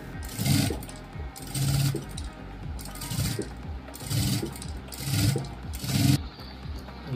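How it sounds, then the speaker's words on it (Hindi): A sewing machine stitching a latkan, running in repeated bursts of rapid mechanical clatter separated by short pauses, close and fairly loud with no speech. "अब इसको हम उल्टी साइड से रख के एक पैर के मार्जिन से सिलाई मार लेंगे"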